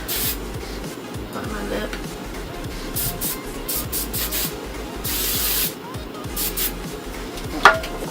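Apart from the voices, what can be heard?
hairspray being sprayed on curled hair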